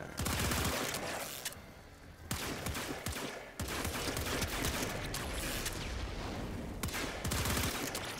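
Rapid bursts of gunfire in the shooter game Warframe, loud dense volleys of automatic shots with brief gaps between strings of fire.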